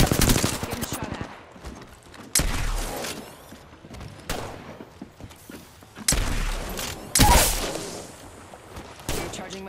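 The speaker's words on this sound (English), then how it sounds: "Getting shot at." Bursts of gunfire from an R301 rifle sound in a fast-paced shooter game. Sharp volleys recur several times amid game effects and background noise.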